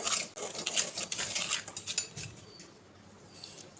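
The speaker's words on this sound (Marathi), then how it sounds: "एक वाटी बेसन आता हे आपण मिक्स करून घेऊया" A bowl of gram flour (besan) with semolina is mixed by hand for khaman dhokla, giving quick clattering scrapes and taps of a spoon against the bowl close up for a few seconds, then fading to a quieter rustle.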